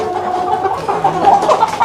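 Chickens on a goat farm cluck in short, close, repeated calls over a steady background, with no voices.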